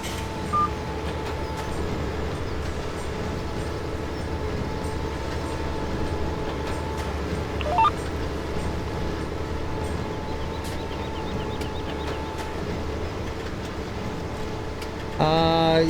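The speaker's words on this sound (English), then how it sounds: "Sounds like a windshield wiper motor to me." Kuhn farm machinery in the video game Farming Simulator 17 gives a steady, loud mechanical whir with a rhythmic, train-like clatter throughout, plus a brief tonal sweep midway and a sharper burst at the end.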